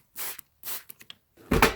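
Short hissing sprays from a spray bottle misting fabric while pleating a homemade respirator mask, two or three close bursts separated by brief pauses, the last one louder and longer.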